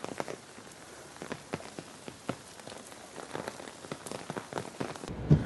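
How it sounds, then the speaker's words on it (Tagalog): Steady heavy rain in Italy patters on a surface, with scattered heavier drops tapping irregularly throughout. "Lakas ng ulan."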